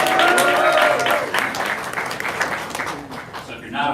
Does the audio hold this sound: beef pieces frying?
no